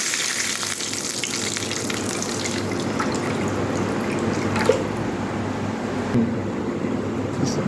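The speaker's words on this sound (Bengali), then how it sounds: "দিয়ে দেবো পানি।" Water is poured into a hot frying pan of spices, onion, garlic and dried chillies for tarka daal. A loud, continuous hiss and bubbling fill the pan close up, with no voices.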